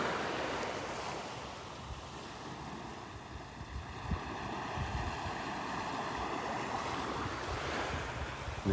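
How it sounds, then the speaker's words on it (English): Ocean waves wash steadily onto the beach at Delnor-Wiggins, a continuous broad surf roar with gentle swells, roughened by wind buffeting the microphone. "A little wave action, and that'll die down"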